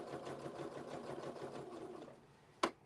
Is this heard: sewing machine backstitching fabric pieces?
yes